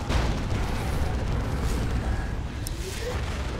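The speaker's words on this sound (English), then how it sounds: "You can see all those heavy bolters firing and the two las cannons there on the side-mounted cannons there." Heavy bolters and side-mounted lascannons firing in Dawn of War 2, a dense, rumbling barrage of continuous booms and bursts with a sharp crack near the end.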